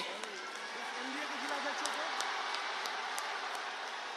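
A large crowd at a Prime Minister Modi rally in Sitamarhi, Bihar, applauds continuously to welcome him. The dense, steady wash of clapping fills the whole stretch, and a voice can be heard faintly beneath it.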